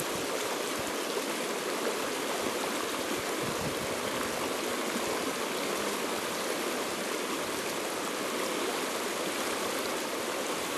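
River current rushing through white water on the Farmington River, a steady, dense broadband roar of turbulent flow that stays close and constant throughout with no voices.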